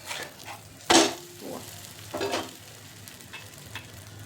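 A pumpkin or sweet potato thalipeeth roasts uncovered on a pan with a soft, low sizzle, broken by a couple of louder scraping clatters from a spatula.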